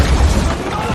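A bomb blast in a samurai battle film sends a heavy low rumble through the first half-second, then fades into a lingering roar while a narrator's voice runs over it.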